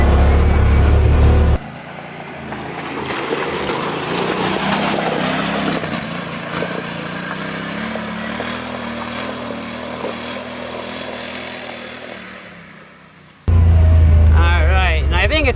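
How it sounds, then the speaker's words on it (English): A Yamaha Wolverine X4 side-by-side crawls slowly over rocks in low-gear four-wheel drive, its engine a close, steady drone whose pitch slowly rises and falls, framed by louder, rougher bursts at the very start and end. "we're just going to go up nice and slow over this and see how the four-wheel drive handles this"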